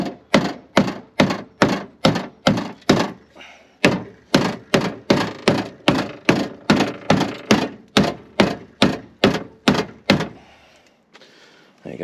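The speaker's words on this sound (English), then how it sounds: "Quickly just try and bang this wing out a little bit because it was hitting the tire." Repeated hammering on the damaged front wing panel of a crashed Nissan R35 GTR, knocking the bent metal out away from the tyre: about twenty loud, close, sharp bangs in a steady rhythm with brief pauses, no talking.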